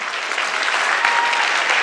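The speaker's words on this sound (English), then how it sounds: "Let's give them one more round of applause." A burst of dense, steady audience applause for the debaters and jury at a live debate event, loud and continuous throughout.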